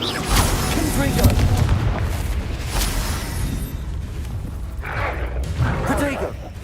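Confringo fire-spell blasts in the Hogwarts Legacy video game, several booming bursts over a continuous rumble of game sound, with a voice casting spells.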